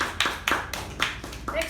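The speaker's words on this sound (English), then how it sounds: "Please give her a big round of applause." A few scattered claps at a club meeting, sparse and irregular, with a voice briefly speaking over them.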